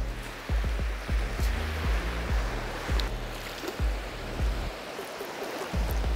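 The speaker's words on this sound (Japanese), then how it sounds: "波がわさわさしていて良さそうです" Choppy surf rolls against a shore lined with wave-dissipating concrete blocks, heard as a steady wash broken by repeated low, heavy thumps of breaking water, fairly close.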